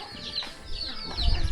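Chickens clucking in a rural Bru ethnic minority village yard where pigs and ducks are also kept, a few soft bird calls amid steady outdoor ambience.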